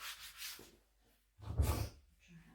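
A cloth rubs wood stain back off a piece of furniture being upcycled, heard as two soft, breathy wiping strokes close by, the second one louder.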